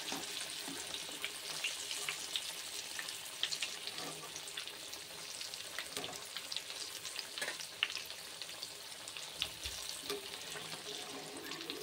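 Sweet corn samosas deep-frying in hot oil give a soft, continuous bubbling sizzle with scattered small crackles, steady and fairly quiet over the whole stretch.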